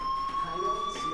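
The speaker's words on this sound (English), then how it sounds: "do you hear that fire alarm? That means you should be outside" A fire alarm in the Life is Strange video game gives a steady, piercing electronic tone held without a break, with a faint voice talking quietly underneath.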